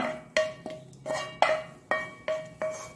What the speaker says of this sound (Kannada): ಇದನ್ನು ಒಂದು ಪಾತ್ರೆಗೆ ಶಿಫ್ಟ್ ಮಾಡ್ಕೊಳ್ಳೋಣ